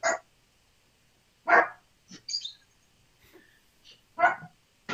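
A dog barks in several short, separate bursts spread over a few seconds, fairly close and moderately loud, with quiet gaps between them and no talk.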